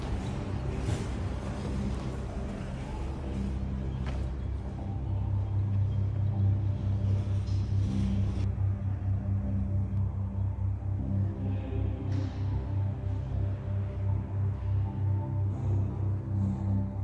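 Busy road traffic rumbles past beside the River Churn in Cirencester on a morning after a stormy night, a low continuous drone of vehicles that grows slightly heavier midway, with no voices.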